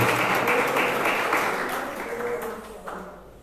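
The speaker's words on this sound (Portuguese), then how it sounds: "aplauda bem forte a Jesus" Loud applause from a large church congregation at an evangelistic service, steady and dense throughout, gradually tapering slightly toward the end.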